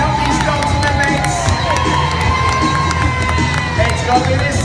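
A crowd at a Crufts 2016 dog display by the Kennel Club Good Citizen Dog Scheme Gold Display Team cheers and shouts continuously, a dense, loud indoor roar with children's voices and whoops throughout.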